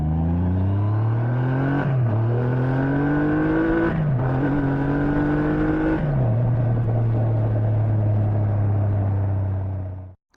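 A Triumph Rocket 3 GT motorcycle with a 2.5-litre, 165 hp engine pulls hard and loud, its pitch climbing then dropping three times as it shifts up through the gears, before cutting off abruptly at the end.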